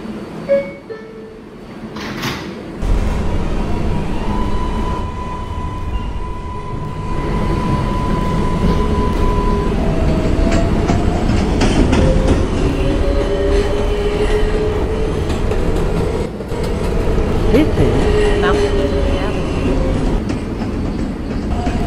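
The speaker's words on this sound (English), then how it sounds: "This is a Woodlawn-bound 4 train." An R142A subway train on the New York 4 line rumbles steadily along the tracks, with wheels squealing and a brief clatter before the loud, continuous roar settles in.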